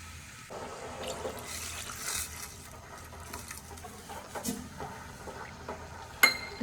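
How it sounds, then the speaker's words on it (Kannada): Water from a cup is poured into a cooking pot for shavige uppittu, a soft trickling splash at low level in a kitchen, ending with a brief metallic clink. "ನಾನಿಲ್ಲಿ 3 ಕಪ್ ವಾಟರ್ ಆ್ಯಡ್ ಮಾಡಿದ್ದೀನಿ."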